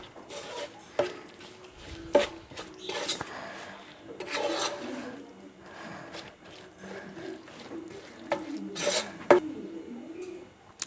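Chicken pieces mixed by hand into masala, giving soft, wet rubbing and squelching in irregular bursts at close range, fairly quiet throughout.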